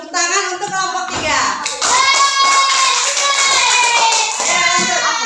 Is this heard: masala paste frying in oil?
no